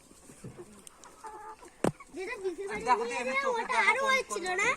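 Chickens cluck at a makeshift shop stall, with irregular fowl calls mixed under steady nearby chatter and talking that fills most of the clip.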